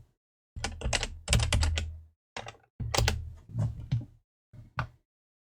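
Bursts of typing on a computer keyboard at a desk during a Magic: The Gathering War of the Spark draft, clustered rapid keystrokes in several short runs separated by pauses, close and fairly clear with no talking.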